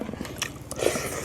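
Crispy fried pomfret fish being bitten and chewed close to the mic, a run of crunchy bites with a brief louder crunch near the end.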